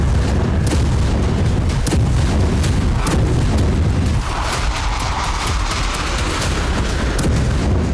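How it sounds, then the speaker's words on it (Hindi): Storm Shadow cruise missile strikes on Russian cities, a dense, loud barrage of booming blasts and sharp bursts layered over a constant roar, with repeated impacts in quick succession. "यूक्रेन ने स्टॉर्म शैडो मिसाइलों से रूसी शहरों में इसी तरह से एक के बाद एक 10 धमाके किए"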